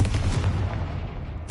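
A Confringo blast spell goes off in a wizarding video game, a short, loud, booming explosion with a low rumbling body that tails off over about a second.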